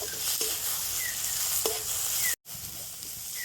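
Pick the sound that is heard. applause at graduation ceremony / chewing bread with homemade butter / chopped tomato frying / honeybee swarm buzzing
chopped tomato frying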